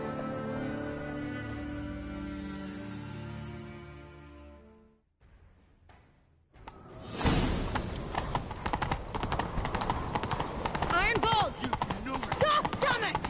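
Horse hooves clip-clop at a quick, steady gallop in Witcher 3 on PS5, loud and close after a brief quiet gap that follows a stretch of music, with no talk over the hoofbeats.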